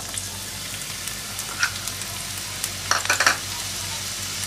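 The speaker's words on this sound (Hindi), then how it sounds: "तेल गरम हो रहा है तब तक हम उसमें 1 कटा हुआ प्याज डालेंगे।" Chopped onion frying in a few tablespoons of hot oil, giving a continuous even sizzle with a few sharper crackles and stirring clicks near the end, close and without talk.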